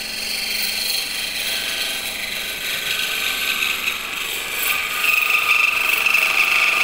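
Wood spins on a lathe while a carbide tool cleans and straightens the blank, producing a steady scraping, rasping hiss that grows brighter near the end, with no talking.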